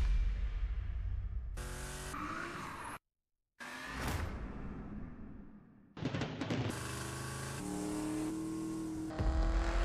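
Car engine in the racing game The Crew Motorfest, revving and accelerating loudly with gear-change roars and whooshes, one brief cut to silence midway, then a sustained high-revving drive.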